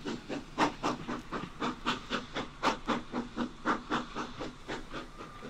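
A steam train departing on the Mildenhall branch railway, rounding a tight curve, with rhythmic chuffing exhaust beats in a steady, slightly quickening pulse, moderately close and alone without talk.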